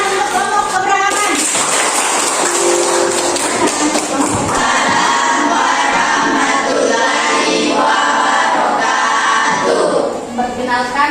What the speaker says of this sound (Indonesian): Oke, tepuk tangan untuk kelompok keberagaman.